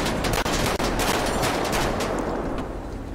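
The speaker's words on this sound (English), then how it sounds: "They're shooting at me." Rapid bursts of automatic gunfire in GTA V roleplay, dense and loud crackling shots overlapping continuously before easing slightly toward the end.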